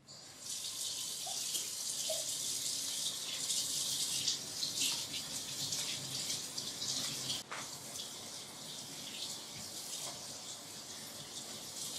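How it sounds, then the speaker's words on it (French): Hot tap water runs steadily into a sink while the elbow fittings of a Cafection Encore Venti coffee machine's canisters are rinsed, a continuous close hiss and splash with faint clinks of parts, no one speaking. "Dévissez les coudes des contenants et nettoyez à l'eau chaude."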